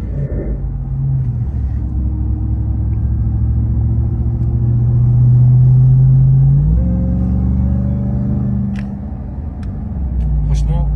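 A Ram TRX pickup truck drives in auto mode with a steady low engine rumble and road noise throughout, rising briefly as it accelerates and shifts, while people talk inside the cabin.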